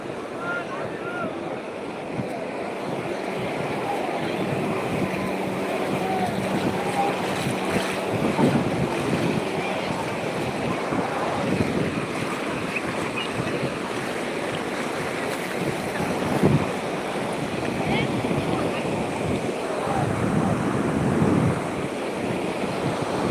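On Digha beach, loud surf rolls and crashes without pause, mixed with strong wind noise on the microphone and occasional swells; a voice speaks briefly at times beneath the roar.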